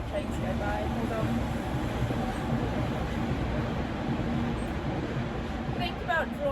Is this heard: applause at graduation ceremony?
no